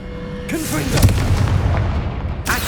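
The Confringo fire spell in Hogwarts Legacy, a heavy booming blast with a rumbling fiery tail that is loud and close, followed by a second burst near the end.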